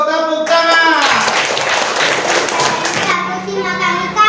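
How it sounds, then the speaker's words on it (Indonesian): Children in an elementary classroom clap their hands together in a rhythmic burst of patterned claps, close and lively, with children's voices before and after. "Tepuk tangan."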